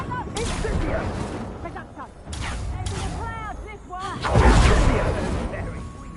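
An Incendio fire spell is cast in Hogwarts Legacy, producing bursts of whooshing flame and blasts that roll in waves amid clattering combat effects, with a fiery surge near the end.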